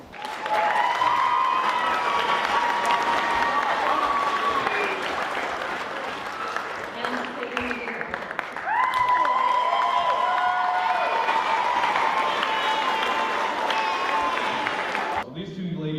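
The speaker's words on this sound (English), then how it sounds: "Please give them another round of applause." Sustained audience applause fills a school board meeting room honoring two civic education award recipients, loud and steady for about fifteen seconds, with a brief lull midway and a voice cutting in at the end.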